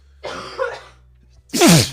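A single explosive sneeze bursts out loudly after a brief, breathy vocal sound, close to the listener.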